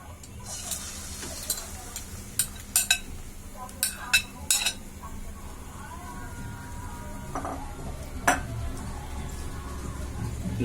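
Egg stirred in hot oil in a frying pan, heard as scattered metallic clinks and scrapes of a utensil against the pan over a low frying hiss, fairly close, with no voices.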